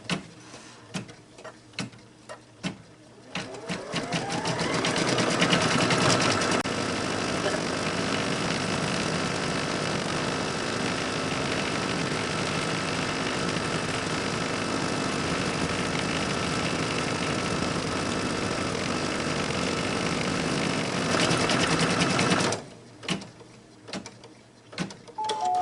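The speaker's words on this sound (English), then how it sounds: "now it is ready to stitch out the blanket stitch" An embroidery sewing machine stitches out a blanket stitch on an appliqué design, starting after a few ticks and running as a steady, close mechanical whir for most of the stretch before stopping, with no voices.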